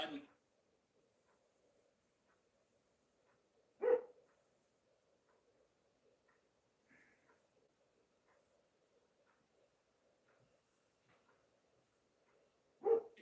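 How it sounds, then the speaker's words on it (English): A dog barks sharply three times at long, spaced intervals, fairly faint and distant against a quiet background. "What's she barking at?"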